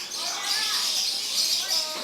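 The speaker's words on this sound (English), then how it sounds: "Look at all the birds in there." Many small birds chirp and tweet continuously inside an aviary, a dense, bright chorus of overlapping calls with occasional louder trills, heard close and steady throughout.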